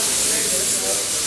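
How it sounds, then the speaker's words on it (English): Air is blown steadily across freshly sprayed waterborne candy paint on metal to flash dry it, giving a continuous close, loud hiss with no break. "we got to blow air across it the whole time until it's flash dry"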